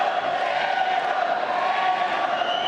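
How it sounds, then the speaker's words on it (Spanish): An auditorium audience gives an ovation, a steady wash of crowd cheering and applause that holds at an even, fairly loud level throughout with a droning tonal edge. "El hecho desató la ovación del auditorio."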